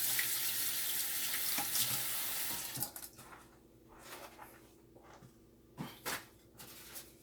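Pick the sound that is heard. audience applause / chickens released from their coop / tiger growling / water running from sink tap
water running from sink tap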